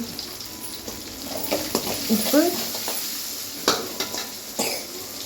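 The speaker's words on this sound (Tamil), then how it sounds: "இப்போ இந்த பூண்டு வேகிற டைம்லேயே நம்ம கருவேப்பிலை சேர்த்துக்கிட்டு சின்ன வெங்காயமும் உடனே போட்டுருக்கோம்" Garlic, curry leaves and shallots sauté in a pan with a soft, steady sizzle and a few sharp stirring scrapes, heard up close without speech.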